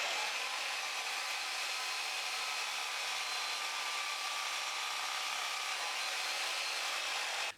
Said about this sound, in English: Once you switch the machine on and lift it up, the blade easily cuts through any material that you put on the actual table.